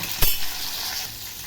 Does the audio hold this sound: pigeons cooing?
no